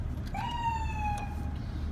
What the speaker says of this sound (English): you got your manual 1,